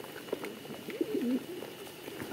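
Pigeons on a farm coo softly, a few low, rolling calls rising near the middle of the stretch against a quiet background, with no voices.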